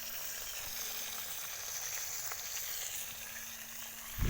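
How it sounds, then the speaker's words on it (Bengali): Fish fries in a pan at an outdoor picnic in a field, giving a faint, steady sizzle and hiss with no talking over it. "এদিকে আমাদের মাছ ভাজা চলছে"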